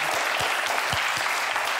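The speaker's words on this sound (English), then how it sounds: "I'm going to ask for a big round of applause for Head Hacking's Kev Sheldrake." Steady applause from a lecture audience at a talk on hypnosis, a dense continuous patter of clapping that holds at an even level for the whole stretch with no voices over it.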